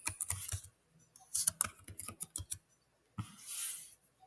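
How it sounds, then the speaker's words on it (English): Short bursts of close keyboard typing as a search is entered on a computer, clustered clicks with pauses between them and a softer rustling swell near the end. "we're going to type in"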